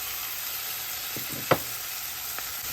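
Small onions sautéing with turmeric powder, a steady soft sizzle with a couple of faint stirring taps and one sharp knock midway.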